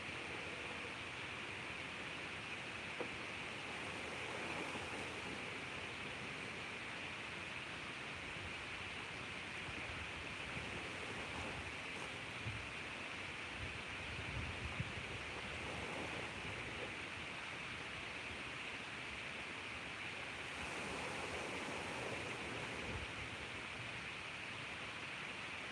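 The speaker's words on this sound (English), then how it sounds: "listen to the sounds of the waves" Soft, steady ocean surf wash on a beach at sunrise, a faint continuous rush with gentle swells and no voices.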